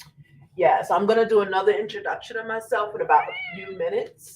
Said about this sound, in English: That's my cat screaming in the background.